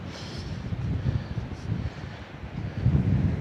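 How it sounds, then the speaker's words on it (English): Steady, moderate wind rushing past the microphone at a quiet beach near Punta del Diablo, Uruguay, a continuous low rumbling buffet with no voices. "And it is a lot more windier down here."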